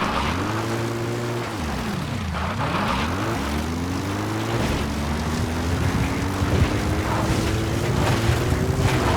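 Support helicopter arriving in Metal Gear Solid V: The Phantom Pain, a loud steady rotor and turbine drone with rising and falling pitch sweeps as it approaches, over a busy background wash, no voices.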